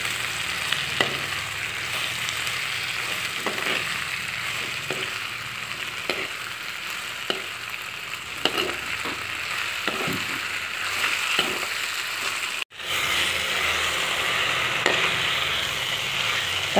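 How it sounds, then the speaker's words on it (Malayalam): Ripe tomatoes sautéing in a pan for fish curry make a continuous, close sizzle, with regular stirring scrapes and taps; a brief dropout near the end, then the frying carries on. "ഇനി നമുക്കിതിനകത്തിലോട്ട് പഴുത്ത തക്കാളിക്ക ഇടാം ഇത് നന്നായിട്ട് വഴറ്റണം"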